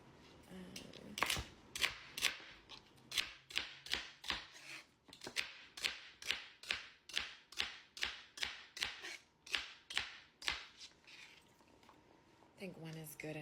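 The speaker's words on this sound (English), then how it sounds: "last but not least, I'm going to cut up some celery" A knife chops one celery stalk on a cutting board in a home kitchen, a quiet run of crisp, evenly spaced cuts, roughly twenty in a steady rhythm.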